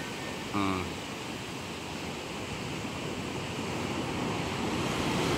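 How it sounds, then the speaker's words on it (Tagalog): Steady ocean surf washing continuously onto a beach, a broad roar with wind buffeting the microphone and a brief tonal blip early on. "Medyo maliit na yung alon ngayon, di gaya kaninang umaga"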